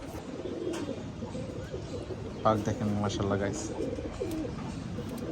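Pigeons being readied for a tournament coo in soft low repeated phrases beneath someone talking close by, with a brief louder burst of bird sound midway.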